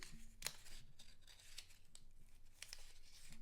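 A paper coin roll wrapper tears in a few short, crisp rips, close to the microphone, with faint crinkling between them and no voices.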